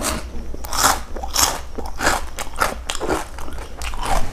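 Crispy pork cracklings (khaep mu) crunched in repeated loud, close bites, each a sharp crackling burst with brief pauses between, no talking.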